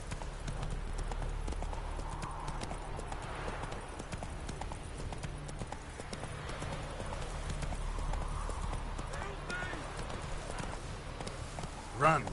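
Roach the horse gallops in The Witcher 3, a steady rhythmic clip-clop of hooves running throughout under game ambience, with faint voices in the background.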